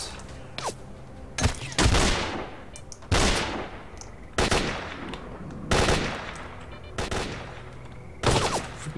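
Gunfire in the video game S.T.A.L.K.E.R.: Call of Pripyat, with several loud, sharp bursts and single shots spread across the stretch and short quiet gaps between them.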